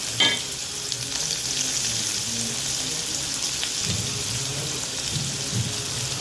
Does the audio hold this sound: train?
no